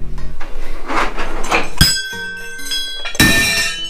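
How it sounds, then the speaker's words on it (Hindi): Bells ringing inside a Shiva temple in Gwalior, several sharp metallic strikes with bright ringing tails, mixed with clunks and a busy background of people. "ये वाली भी घंटी बज रही है"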